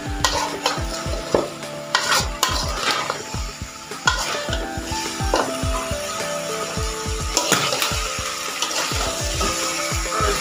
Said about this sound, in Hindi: और इसको भी थोड़ी देर हम मसाले में भूनेंगे।